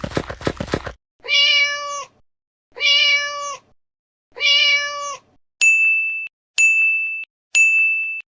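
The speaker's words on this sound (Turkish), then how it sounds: "kedi" Three clear, drawn-out cat meows follow a brief burst of music, each about a second long with even gaps, then three bright synthetic dings ring out in the same steady rhythm.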